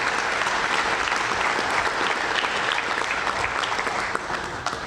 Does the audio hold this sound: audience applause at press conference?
yes